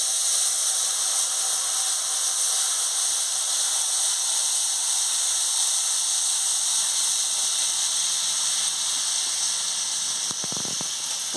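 Water poured into a hot pan of chili powder while cooking papaya ghonto, giving a steady, loud broadband sizzle and hiss that holds throughout, with a brief clatter near the end.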